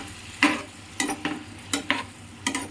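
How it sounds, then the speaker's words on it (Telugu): Chicken pieces stirred in hot oil in a frying pan, four distinct scraping stirs at a steady rhythm over a faint, steady sizzle, close and fairly quiet. "ఈ చికెన్ని వేసుకున్నాక ఇలా కలుపుకోవాలి."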